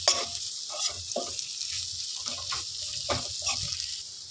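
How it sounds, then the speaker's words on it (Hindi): An amla murabba mixture with dry fruits is stir-roasted in a pan, giving a steady sizzle broken by repeated spoon scrapes and stirring pushes at close range, without speech. "इसको हम इस तरीके से चलाते हुए लगभग 1 मिनट के लिए भूनेंगे"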